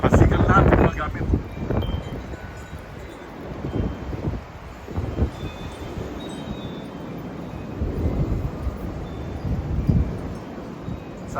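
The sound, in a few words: strong wind during a storm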